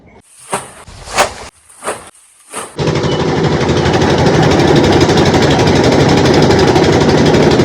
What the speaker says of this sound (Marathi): आता ऊस टाकून कुट्टी करून घ्यायची